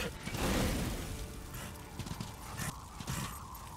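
Horse hooves gallop in the video game Darksiders, a fast rhythmic clatter of hoofbeats close up and fairly loud, with a rumbling burst at the start and no speech.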